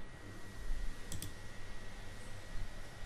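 A computer mouse gives two quick, light clicks close together, faint and close over a steady low hum, with no talking.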